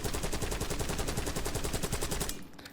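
Rapid automatic assault rifle fire in Black Ops 6, loud and close, a continuous stream of shots for over two seconds that cuts off abruptly near the end.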